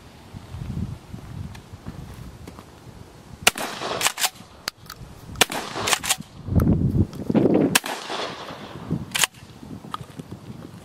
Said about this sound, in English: this time we've got a bolo round. It is two very large buckshot with a steel cable in between